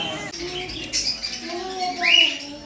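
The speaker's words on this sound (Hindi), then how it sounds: "ये देखो, ये बर्ड शॉप है।" Budgerigars in a bird shop give short chirps and squeaks, including one brighter, louder chirp near the end, over a background of indistinct voices and room noise.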